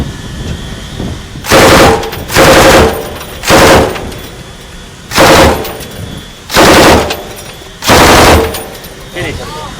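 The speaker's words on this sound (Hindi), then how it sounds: "और ये हथियार 1 मिनट में 650 से 900 गोलियां फायर कर सकता है." A machine gun fired aboard the Indian Navy ship INS Kolkata: six loud, close bursts roughly a second long, separated by short pauses, over a steady shipboard hum.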